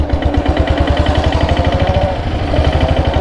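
A motorcycle engine runs steadily near the listener, a loud, rhythmic low thumping idle with even pulses and no speech.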